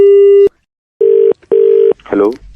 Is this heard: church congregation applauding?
no